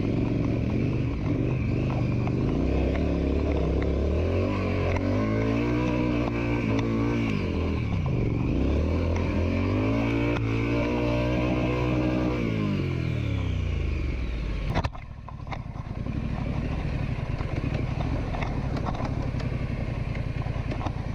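A 2019 Triumph Scrambler 1200 XE motorcycle engine revs up and down in long repeated swells, loud and close, before dropping back to a lower rumbling idle near the end.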